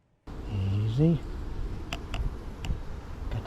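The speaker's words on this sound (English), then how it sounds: "And a lot of bees." Honey bees buzz around an open beehive during a spring hive inspection, a steady low hum near the microphone with a few sharp clicks and knocks, while someone talks briefly early on.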